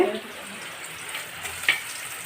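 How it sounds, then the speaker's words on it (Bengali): Onions frying in a pan in a home kitchen, a soft continuous sizzle and hiss with a faint clink near the end, fairly quiet and with no talk. "এখানে পেঁয়াজ ভাজছে"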